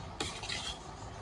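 Zucchini pulp and crushed garlic stirred in a cooking pot, giving a brief scrape of the utensil against the metal followed by soft shuffling and faint background noise.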